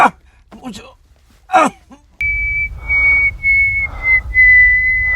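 Brief vocal sounds at first, then a long, clear whistled tune carries steadily in wavering sustained notes over low background hum.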